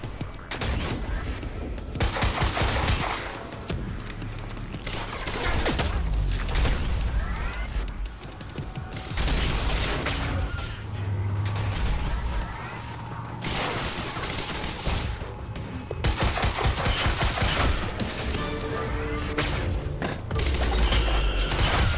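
Pistol shots and impacts crack in the video game Quantum Break, coming in repeated loud clusters over a dense, rumbling action backdrop.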